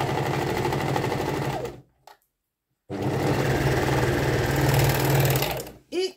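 A sewing machine stitches a curved pocket seam in bursts of loud, close, rapid mechanical whirring, stopping for about a second before running steadily again, with a brief thump near the end.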